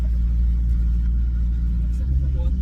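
Maserati GranTurismo S engine with a raspy exhaust note, a loud steady low drone from inside the car with a short rise near the end, with a voice talking over it.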